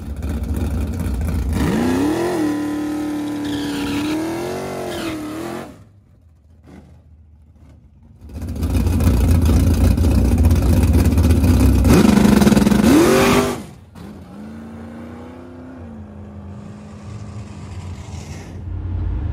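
A loud Chevrolet Vega engine revs hard and accelerates down a drag strip in two long bursts with a short lull between, then a lighter engine drone continues.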